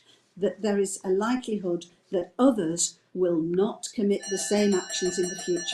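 An electronic doorbell rings indoors partway through a talk on persecuted religious-minority women: sustained, layered chime tones come in late and sound under continuous speech from a man.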